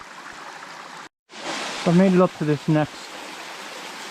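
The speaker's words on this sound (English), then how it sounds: "pretty cool looking little waterfall" Small woodland stream spilling over a little waterfall, a steady broadband rush that fills the whole clip, with someone speaking briefly over it.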